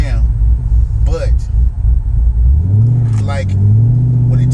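C6 Corvette fitted with a Yank 3600 torque converter pulling away from a stop, its V8 rumbling low and then rising in pitch as the revs climb, heard close with people talking over it.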